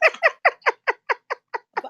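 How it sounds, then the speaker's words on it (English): A cat gives a quick series of about nine short, evenly spaced chirping meows over under two seconds, close and clear, fading slightly toward the end. "Do you hear my cat?"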